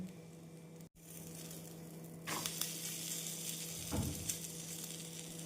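Egg-dipped bread for a sandwich sizzles in a pan over medium flame, quiet at first, then a louder frying hiss swells up with a couple of soft knocks, close and steady.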